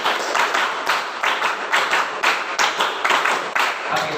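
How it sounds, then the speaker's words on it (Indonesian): A class of students clapping a rhythmic pattern together, repeated groups of sharp claps in a steady counted beat, fairly loud and close, with voices mixed in. "Tepuk 1, tepuk 3,"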